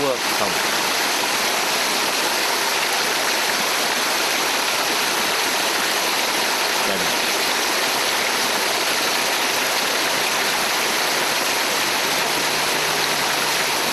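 Clear mountain spring water rushes along a small stream in the rural Azot region, a steady close and loud flowing wash that continues unbroken throughout.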